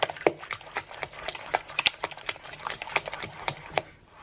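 A small spatula mixes gluten-free banana waffle batter in a bowl, giving a steady run of light clicking taps and soft scrapes, close and fairly quiet, with no talking.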